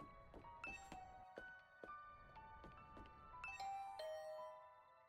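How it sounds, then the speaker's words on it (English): A doorbell rings in a visual novel video game, a string of bright chime tones ringing out one after another in a steady sequence over a soft tinkling background, clear and close with no voices. "I rang the doorbell and could hear the bell ring on the other side of the door."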